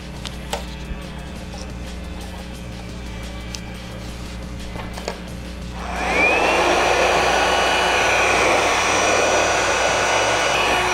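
A hair dryer switches on about six seconds in, a loud steady blowing whoosh with a high whine that holds to the end, after a quiet stretch of faint ticks and room noise in a workshop during an arcade control panel restoration.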